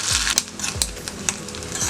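Steady crackling sizzle of spices tempering in hot oil for a spinach and lentil dish, with occasional sharp pops and the scrape of a spoon stirring in the pan.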